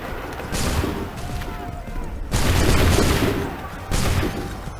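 Musket volleys in the Assassin's Creed 3 Remastered video game come as loud, dense crackling bursts of gunfire, several overlapping shots at a time with short gaps between salvos, and shouted commands sound faintly under them.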